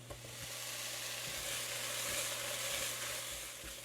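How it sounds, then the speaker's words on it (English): Chopped onions sizzle in hot oil in a pan for beef chow mein, a steady, close frying hiss with faint occasional taps of stirring, and no voices. "we're just going to saute those onions until they start to become clear"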